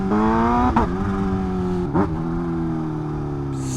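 Kawasaki Ninja H2 motorcycle engine droning steadily, close and loud, with two quick gear shifts marked by a brief dip before the tone settles lower.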